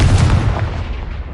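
A loud, deep explosive blast from a Confringo spell in the video game Hogwarts Legacy, hitting hard at once and then rumbling and fading over about a second, with no talk.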